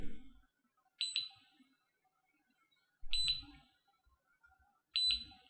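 An EZVIZ alarm motion sensor beeps in three short, high-pitched bursts about two seconds apart, each with a faint low thump beneath, in an otherwise quiet room.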